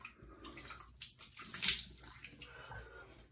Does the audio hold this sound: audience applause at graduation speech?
no